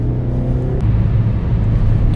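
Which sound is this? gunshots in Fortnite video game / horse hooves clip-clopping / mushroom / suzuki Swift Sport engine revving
suzuki Swift Sport engine revving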